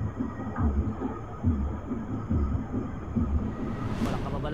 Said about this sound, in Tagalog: Yung tunog ng mga percussion, yung mga tambol